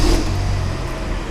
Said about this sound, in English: so it started and the engine is running